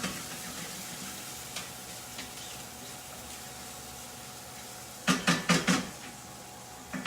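Something melting in a frying pan while beef Wellington is being made, giving a faint steady sizzle broken by a quick run of four or five louder scraping stirs near the end.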